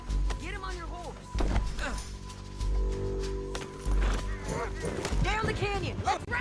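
Horse hooves clip-clopping as riders set off in Red Dead Redemption 2, mixed with a horse's whinny, game music and character dialogue running over most of the sound.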